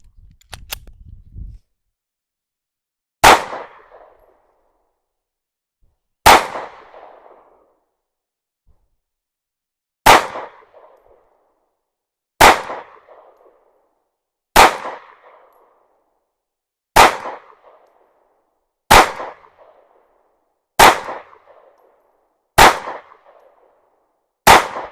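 Ten slow, evenly spaced sharp gunshots from an Anderson Kiger 9C pistol firing Federal white box 9mm target ammunition at an outdoor range, each loud crack followed by a short decaying tail, with a brief faint rustle at the start.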